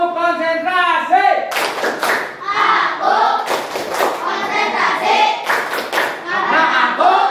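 A Grade 6 class plays a concentration clapping game, the children chanting in unison and then striking their hands together in sharp, loud, irregular bursts of claps close by.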